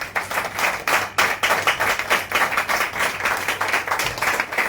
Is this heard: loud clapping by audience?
yes